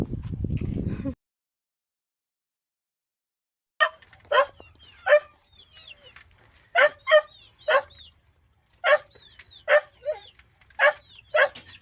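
A dog barks in a series of sharp, separate yelps that come in irregular bursts, close and loud, after a short noisy stretch and a silent gap.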